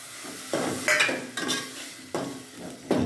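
Onions and tomato sizzle in a pan while a spoon stirs and scrapes them in a few separate strokes. The sizzling is close and steady, and no voice is heard.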